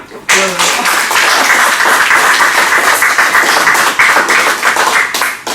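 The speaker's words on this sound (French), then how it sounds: "vous pouvez l'applaudir en amont" An audience at a poetry event in a community hall breaks into steady, dense applause that fills the room and continues for several seconds, with a voice briefly audible at the start.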